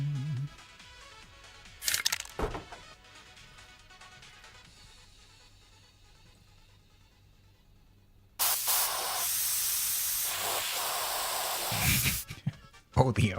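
A spray paint can hisses in a loud, steady, close burst for several seconds, following quieter handling noises and a short earlier spurt.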